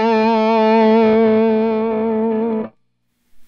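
Electric guitar through a Kingsley ToneBaron pedal in standard mid-range mode with bass and treble turned off, playing one sustained, harmonically rich distorted chord that rings steadily for over two seconds, then cuts off abruptly into silence.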